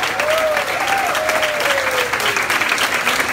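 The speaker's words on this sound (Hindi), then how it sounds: "बजती रहे ताली," An audience applauds steadily at an evening stage show, dense clapping filling the space while a voice rises in a sliding, drawn-out call over it.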